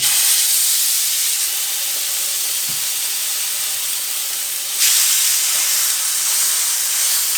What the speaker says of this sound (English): I'm just gonna go ahead and put my pork chops on here on this side.